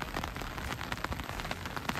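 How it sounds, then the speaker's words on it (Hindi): Steady rain patters on a jungle campsite near Sethan, Manali, in Himachal, a dense close hiss of drops striking surfaces with no voices. "अभी तक बारिश तो रुकी नहीं है"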